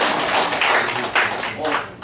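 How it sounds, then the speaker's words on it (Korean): Short burst of audience clapping during a CPR first-aid training session, a few uneven claps heard close by, mixed with background voices. "수고하신 선생님, 박수 한번 쳐주세요."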